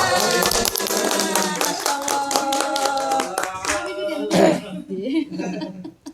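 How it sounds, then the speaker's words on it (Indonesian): Clapping from a group at an Indonesian children's storytelling session, dense overlapping claps with voices and singing-like talk over them, fading into scattered claps and chatter near the end. "Tepuk tangan"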